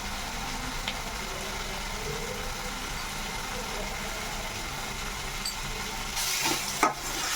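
Tomato and fenugreek leaves cooking in hot oil give a steady, even sizzle that stays at a constant level, with a brief clatter near the end.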